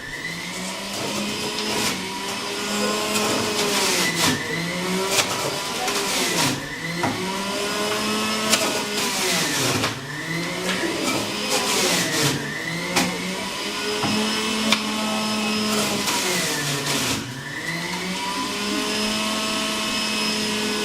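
A juicer motor spins with a continuous high whine, dipping and rising in pitch each time produce is pushed through, then recovering, close and loud with no talk.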